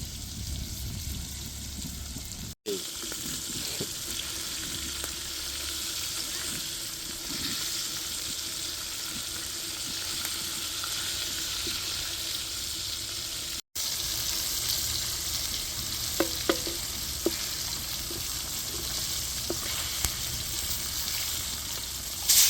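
Fish sizzling and frying in a pan with turmeric, chili powder and salt, a steady close hiss throughout with faint stirring scrapes and a few light clinks near the end; no talking.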